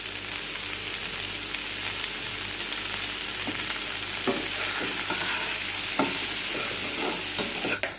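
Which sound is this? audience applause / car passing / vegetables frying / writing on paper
vegetables frying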